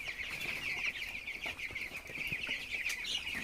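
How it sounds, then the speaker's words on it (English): Seventeen-day-old broiler chickens in a dim poultry house keep up a dense, continuous chorus of high cheeping and soft clucks, faint and steady, with no voices. "Yes, these are the broilers. They are 17 days old in this house."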